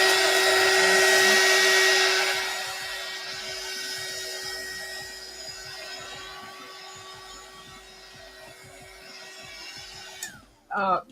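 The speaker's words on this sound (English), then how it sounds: "This is a art dryer." An electric art heat dryer blows over a freshly glued collage page, a steady whirring hum with a whine that is loudest for the first two seconds, then settles quieter before a few clicks at the end.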